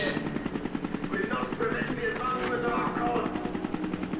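Rapid automatic gunfire in Call of Duty Black Ops 3 Zombies on the Der Eisendrache map, a steady loud stream of shots with game effects layered over it and no pause.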